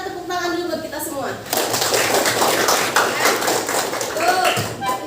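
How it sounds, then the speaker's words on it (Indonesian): A class claps hands together during a school lesson, a burst of rapid clapping starting after a short spoken phrase and continuing to the end, with faint voices. "Sebelumnya kita tepuk tangan dulu buat kita semua."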